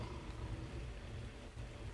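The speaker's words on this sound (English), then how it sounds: "Ooh, rain." Steady rain in the survival video game Ark, a soft even hiss with a low rumbling bed, faint and continuous without any voices.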